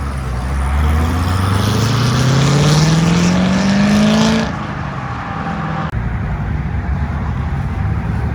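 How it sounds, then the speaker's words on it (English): At a Houston car meet, a Corvette Z06 accelerates away with a loud engine note rising in pitch, then fades and drops to a steadier rumble amid background noise from the meet. "I do see a Z06 also rolling out"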